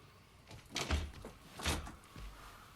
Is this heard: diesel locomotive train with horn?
no